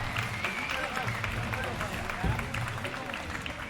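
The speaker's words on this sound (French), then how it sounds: "Applaudissements pour Anatole One." An amateur scooter competition crowd breaks into sustained applause and cheering for a rider, dense and steady throughout, with an announcer's voice over the top.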